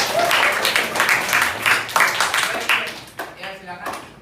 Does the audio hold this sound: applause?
yes